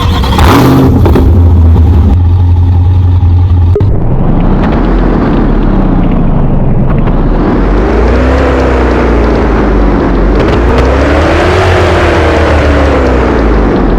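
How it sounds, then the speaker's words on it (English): A Corvette in a driving video game starts up with a brief crank and then settles into a loud, deep engine rumble that rises and falls through repeated revs, continuous and close. "for our next car we got another Corvette"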